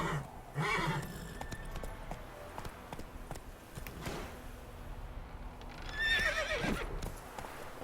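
A horse whinnies twice in the video game The Witcher 3: Wild Hunt, once near the start and again louder near the end, over a steady patter of clip-clopping hooves.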